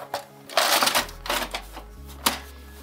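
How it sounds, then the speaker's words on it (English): Paper tray pushed into an M6702DW wireless auto duplex laser printer, a cluster of plastic clatters and sliding knocks with a steady low printer hum beneath, close by, ending in one sharp click. "Insert it into our printer."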